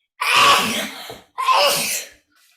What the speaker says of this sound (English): Whoever just sneezed, can you please mute yourselves? Nobody needs to hear you sneeze.